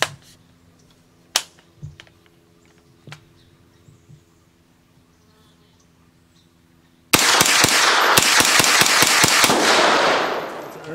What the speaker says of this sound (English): Ten rapid shots through this.